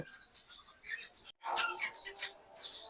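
Giribaj pigeons with eggs and chicks in their coop give soft, scattered chirping calls that rise in a busier burst after a brief pause, close by with no talking.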